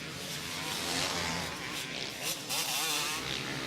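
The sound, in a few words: KTM 250cc two-stroke motocross bike racing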